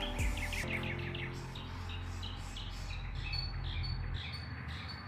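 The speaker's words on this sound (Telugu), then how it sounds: "పిట్టలు బాగా సౌండ్ చేస్తున్నాయి" Several birds chirp and tweet in quick bursts over a low steady hum, fairly faint and scattered across the moment.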